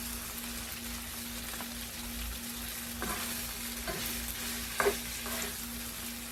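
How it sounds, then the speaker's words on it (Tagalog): Shrimp sauté in a pan for pancit sotanghon, a continuous close sizzle with a few stirring clicks and scrapes partway through. "Igisa ko na yung shrimp dito sa side."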